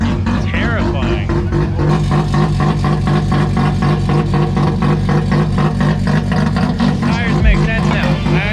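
Mazda RX-7 rotary Wankel engine cars run loud and close, a steady buzzing engine drone that rises and falls slightly throughout, with people talking over it.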